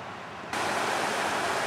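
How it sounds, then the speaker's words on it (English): The Kings River runs in a steady, full rush of flowing water close by, at low November level, with a broadband roar that jumps louder partway through and then holds constant, with no voices. "So here's the river, Kings River."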